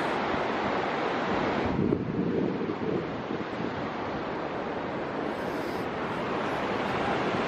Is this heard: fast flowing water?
yes